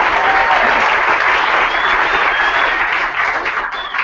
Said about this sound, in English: Fausto, round of applause!